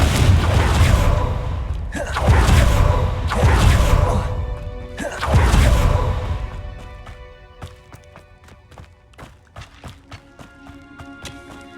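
Confringo blasting spell cast in Hogwarts Legacy, a few loud, booming bursts, each swelling and fading, followed by quieter scattered clicks, clatter and a steady ringing tone.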